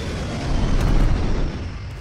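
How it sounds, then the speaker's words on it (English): A strafe run airstrike in the video game Black Ops Cold War, heard as a dense, continuous low rumble of explosions that swells in the middle and then eases off, with no talk. "My strafe run can literally kill me."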